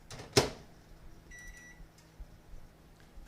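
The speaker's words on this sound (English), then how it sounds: "I put 1 1/4 cups of mozzarella cheese in my microwave" Microwave oven melting mozzarella cheese, heard as a sharp click or thump, then a short electronic beep sequence, followed by faint clicks over a quiet hum.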